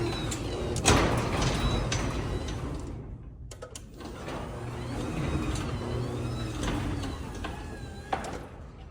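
A Craftsman garage door opener with worn internal gears runs with a continuous grinding, whining mechanical drone and rattling, loud and close, with a brief dip partway before it carries on.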